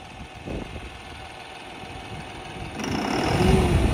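A CRD5620 tractor engine runs with a steady mid-range drone, idling at first and then rising louder and rougher as it is revved up near the end.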